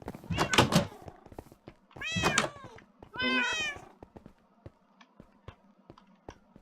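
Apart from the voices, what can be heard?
cats meowing in Minecraft video game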